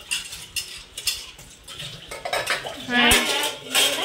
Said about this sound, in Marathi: एक भांडी घासते